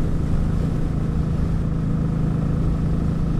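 A motorcycle cruising along an open road gives a steady, unbroken engine drone with constant wind rush, close and fairly loud, and no one speaks.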